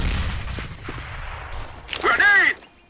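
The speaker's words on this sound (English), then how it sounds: "Just throw the flashbang right here" A flashbang grenade goes off in CS:GO on the Inferno map, a sharp broadband pop and bright ringing burst near the end, after a stretch of quieter game noise and movement.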